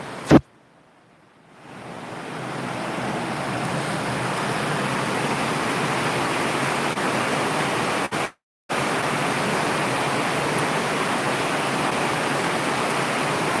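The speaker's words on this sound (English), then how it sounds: "man, you can hear the flipping rain right now" Heavy rain pours down steadily in Valencia, Philippines, a dense, even hiss that holds loud and unbroken for over ten seconds after a brief quiet start, with one short dropout midway.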